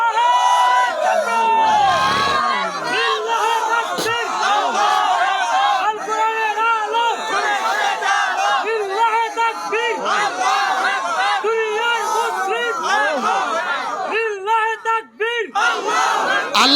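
A large crowd at an Islamic religious gathering (mahfil) roars a takbir chant in unison, with loud, surging shouts that rise and fall in repeated waves and keep going throughout.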